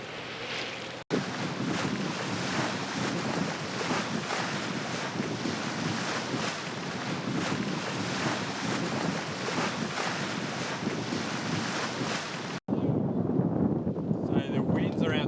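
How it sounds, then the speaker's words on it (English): Steady wind roar and rushing waves on a sailboat offshore along the Dalmatian coast in a 12-knot breeze, continuous and loud with heavy wind buffeting, briefly cutting out before resuming. "So the wind's around 12 knots, but it's been gusting up to 15."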